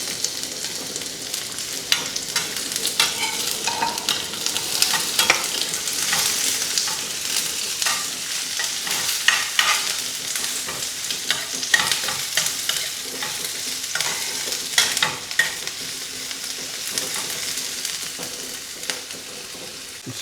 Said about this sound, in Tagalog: Gisa lang natin siya until mag-light brown siya. Add na rin natin yung ating onion.